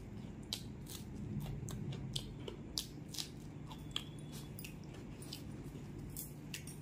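Crunchy puffed rice (muri) is chewed close to the microphone in a quiet room, a series of faint, crisp crackling bites and crunches with no talking.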